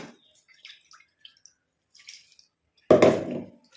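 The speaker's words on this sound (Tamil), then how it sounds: "நம்ம இன்னும் கொஞ்சம் கூட இதில் தண்ணி ஊற்றி அலம்பி ஊற்றிக்கலாம்" Water is poured into a container to rinse out curry leaf juice in a home kitchen: a short, close splash and gurgle after a few faint drips and clinks.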